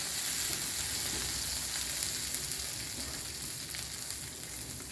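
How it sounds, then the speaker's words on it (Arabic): Hot ghee poured over Syrian-style chicken fatteh with rice, giving a steady, dense sizzle that holds evenly from start to finish, close and alone with no talking. "هلا بجيب طشة السمنة اللي عندي وبعطيها اياها"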